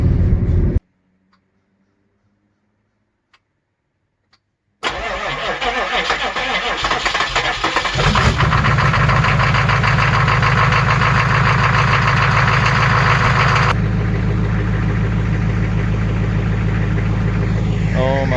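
A loud tuned 6.5 twin-turbo diesel engine with twin HX35 turbos roars to life after a short silence, then settles into a steady, heavy idle with a deep rumble and whistling turbo hiss.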